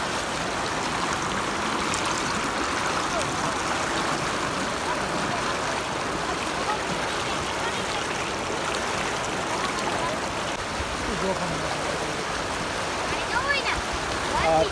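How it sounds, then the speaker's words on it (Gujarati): Floodwater from an overflowing lake near Porbandar rushes with great force across a washed-out farm road after heavy rain, a dense, steady roar of churning water running loud and continuous throughout. "એકદમ ફોર્સથી પાણી વહી રહ્યું છે."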